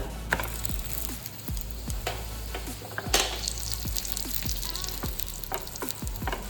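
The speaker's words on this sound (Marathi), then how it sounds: "आपला पराठा आता आपण दोन्हीकडनं छान भाजून घेऊ याला छान तेल लावू" An aloo paratha fries in oil on a pan with a soft, steady sizzle, while the flatbread is pressed and turned, producing repeated light scraping clicks at a close, fairly quiet level.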